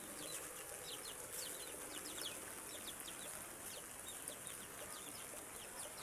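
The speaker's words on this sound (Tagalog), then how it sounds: "Ayan, yung mga manok." Chickens cluck faintly in a yard on a rainy morning, soft scattered calls set against a steady hiss of background noise and insect-like buzzing.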